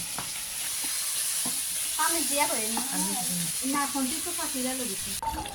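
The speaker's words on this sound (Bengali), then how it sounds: "মাংসগুলোকে এখন চুলায় বসিয়ে দিলাম, দিয়ে ভালো করে কষে নিলাম।" Beef sizzles steadily in a hot pan while being stir-fried for beef bhuna, with a constant frying hiss; a voice hums or sings melodically over it in the middle.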